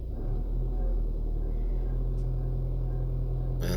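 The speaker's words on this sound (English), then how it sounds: "Put my foot on the throttle now just to increase the revs." Steady low drone of a VW Passat B7 engine held at raised revs in neutral, a constant hum with a faint grinding undertone and a short higher rattle near the end.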